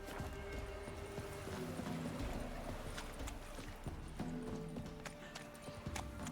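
Hoofbeats of Roach, Geralt's horse in The Witcher 3: Wild Hunt, galloping in a steady clip-clop rhythm throughout, close and fairly loud over a game's ambient backdrop.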